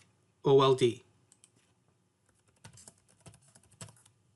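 A search term is tapped out on a computer keyboard as a soft run of scattered key clicks, following a short burst of speech at the start.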